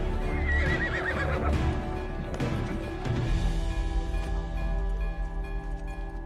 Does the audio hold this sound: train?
no